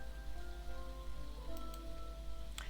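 Rain falling in the farming video game Dinkum, a steady close patter on surfaces that continues throughout, with soft game music tones running underneath.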